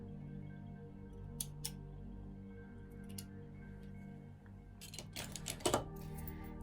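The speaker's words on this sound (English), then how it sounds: "I am going to cut the string." Scissors snip sewing string after hand stitching, a few quiet, close, sharp clicks spread over several seconds, with a short cluster of rustling cuts near the end.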